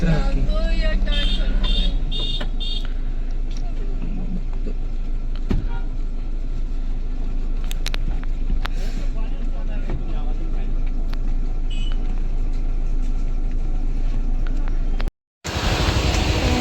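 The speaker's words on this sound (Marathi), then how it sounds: "इथे आलोय तर असा झालाय ट्रॅफिक जाम एकदम जाम झालाय" Road traffic stands jammed near Kondeshwar temple in Ambarnath, with a steady rumble of idling vehicles, occasional passing engines and faint clunks, while people talk nearby.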